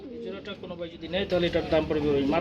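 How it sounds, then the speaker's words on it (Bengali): Domestic pigeons at a pigeon farm coo in low, throaty rolling calls, close and continuous, while someone talks over them. "এটা কি রানিং পেয়ার বড় ভাই মার্শাল যে ডাকতেছে"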